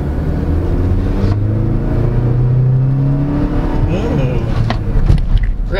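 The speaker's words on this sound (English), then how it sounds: "So let's floor it." A 2024 GAC M8 GX Master van with an automatic transmission is floored, its engine rising in a steady building drone with road rumble inside the cabin, loud and continuous, while a voice speaks over it.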